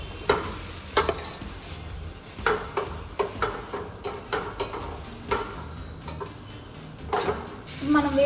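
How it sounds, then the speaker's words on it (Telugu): Ginger garlic paste sizzling in a pan with lightly roasted onions while cooking biryani, a steady frying hiss under repeated stirring and metal spoon scrapes and clinks against the pot. "అల్లం వెల్లుల్లి పేస్ట్ వేస్తున్నాను."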